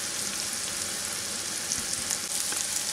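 Mushrooms and onions fry steadily in a pan with a continuous, even sizzle, close and moderately quiet with no talking.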